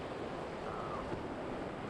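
Whitewater rapids on a river section rush in a steady, broadband roar of churning water, continuous and fairly close, with no voices over it.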